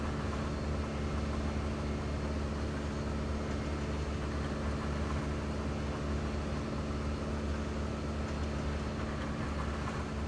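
A Boeing 777 in the FlightFactor flight simulator has its jet engines running with the windows open, giving a constant low, dense roar that holds steady for the whole stretch without talk.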